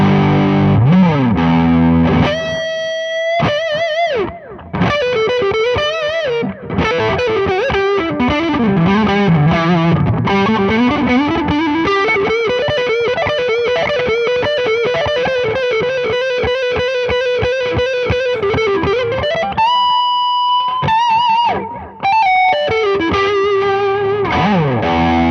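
Distorted electric guitar through a Seymour Duncan Vapor Trail analog delay pedal, playing sustained lead notes and bends with warm repeating echoes trailing behind, loud and continuous, alone without talk.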